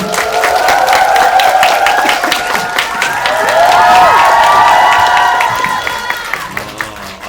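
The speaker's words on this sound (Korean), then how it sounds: "김용화 감독님, 도경수 배우님 큰 박수 부탁드리겠습니다" A theater audience at a Korean film Q&A screening for the space movie The Moon applauds and cheers loudly and continuously as the director and lead actor are welcomed, with claps and shouts sustained throughout.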